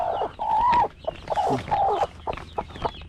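Brooding hen clucking nearby in a backyard coop while sitting on her eggs, a run of low throaty clucks and drawn-out murmuring calls with short pauses between them.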